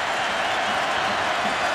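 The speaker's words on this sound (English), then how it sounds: "Crowd trying to get into it." A dense, steady roar from a football stadium crowd during a 2015 Florida at South Carolina college game, a broad wash of noise with no distinct peaks.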